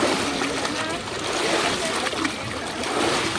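Constant splashing and sloshing of water as people bathe in the Ganges, loud and close throughout, with voices talking over the churning water.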